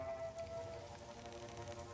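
Steady rain falls in the open world of Ghost of Tsushima, a continuous soft patter of drops on surfaces under a faint tonal music bed, with no talking.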